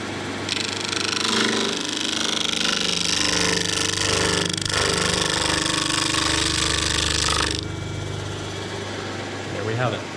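A power sanding machine roars loud and steady for several seconds, then switches off and winds down, leaving a quiet room.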